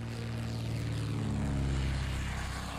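Torpedo bomber propeller engines in the Pacific war strategy game Order of Battle: Pacific give off a steady, moderately quiet droning hum that holds evenly throughout, with no talking.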